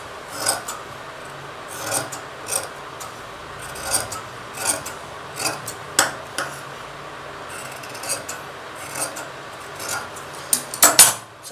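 Scissors cut through blouse fabric in a series of crisp, rasping snips at an irregular pace, close and fairly quiet, with a sharper cluster of cuts near the end.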